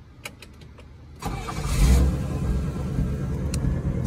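A car's engine with a carburetor is started after being switched off, cranking briefly and catching into a loud rumbling idle that continues steadily, preceded by a few faint clicks.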